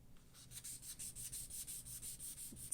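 Wadded tissue rubbing colored pencil into paper on a greyscale rose coloring page, a soft, faint, steady scrubbing repeated in quick regular strokes, heard alone.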